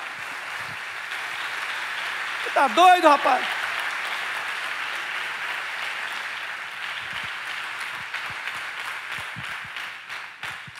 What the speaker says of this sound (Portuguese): Dá um aplauso de louvor ao Senhor, meu irmão.